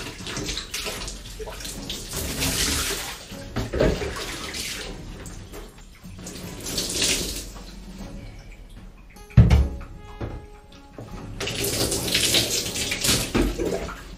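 A 3D-printed Buster Sword part is sloshed and rinsed in a bucket of water during wet sanding, with loud splashing and swirling in several bursts, a sharp knock near the middle, and no talking.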